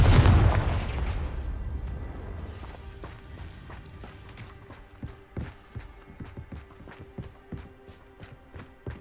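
Confringo blasting spell exploding in the Hogwarts game: a loud booming blast at the start that decays into rumble, followed by scattered crackling pops and debris clatter, with no talk.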